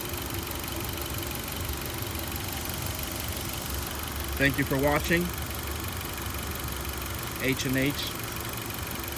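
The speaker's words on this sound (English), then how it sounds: "to check the transmission level, the engine has to be running." A 2014 Nissan Versa engine idles with a steady, close mechanical hum, and a couple of brief voice snippets rise over it.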